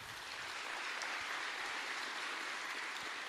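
Audience applause for performers in provincial costume at a jungle-themed opening event, a steady, dense wash of clapping heard from a distance, holding evenly throughout without any voices.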